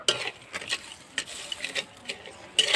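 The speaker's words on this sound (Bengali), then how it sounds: "এবার খুন্তি দিয়ে নাড়াচাড়া করে চিনিটা গলিয়ে নেব।" Sugar being stirred into water with a spatula in a cooking pot: about half a dozen short, intermittent scraping strokes at moderate loudness, close by, with quiet gaps between them.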